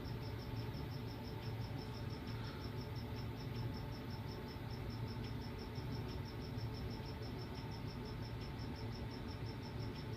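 A cricket chirps at a tarantula feeding, a fast, even pulsing trill that repeats nonstop at moderate loudness over a faint hiss.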